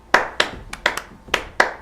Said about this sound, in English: Maybe it's clapping.